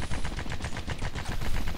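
Submachine gun fire in Red Faction 2, a continuous rapid burst of shots, loud and close, running dense and unbroken throughout.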